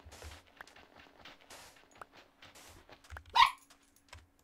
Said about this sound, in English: I'm gonna have a barking dog